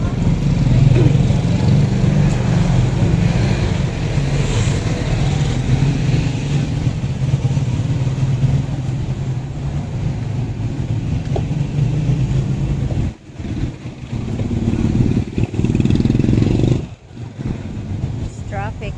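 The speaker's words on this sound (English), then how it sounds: "It's traffic." Heavy road traffic in the Philippines, with cars and motorcycles, rumbles continuously and loudly, with engines droning and passing and a brief drop near the end, while a voice speaks over it.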